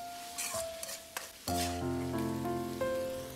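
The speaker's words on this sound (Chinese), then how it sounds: "直接倒入腌制好的猪肚，快速的翻炒20秒钟左右，先把猪肚炒至半熟。" Marinated pork stomach is tossed quickly in a wok over maximum heat, producing a soft, steady sizzle with stirring scrapes and a sustained tonal hum underneath.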